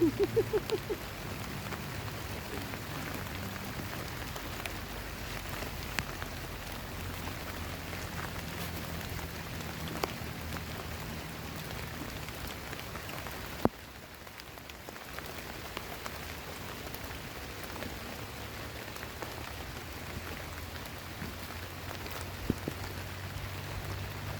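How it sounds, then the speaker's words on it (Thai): Steady rain patters on surfaces beside a natural canal during tilapia fishing, a dense continuous hiss of drops lasting throughout with no voices. "ตอนนี้ก็ล่าสุดฝนตกแล้วจ้ะ"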